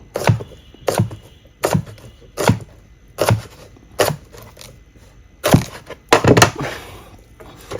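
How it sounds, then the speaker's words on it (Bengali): A knife chops tara vegetable stalks into small chunks on a board, giving about ten sharp, loud thunking cuts at a steady rhythm roughly every 0.7 seconds, with a quick double chop near the end. "আমরা এই ছোট ছোট চাক চাক করে কেটে নিচ্ছি তারা সবজিগুলো"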